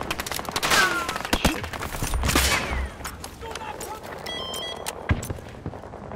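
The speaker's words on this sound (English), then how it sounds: "Somebody's shooting at us." Gunfire in Battlefield 2042 near a tower, with sniping, sharp shots and bursts ringing out among battlefield noise and a loud crack near the end, while players talk over it.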